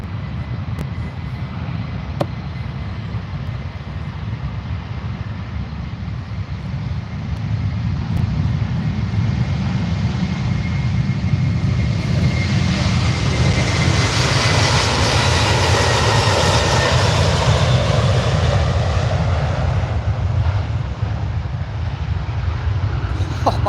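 An Aer Lingus Airbus A330 jet rolls for takeoff at Manchester Airport, its distant rumble swelling into a loud, roaring peak midway before slowly fading, with no talking.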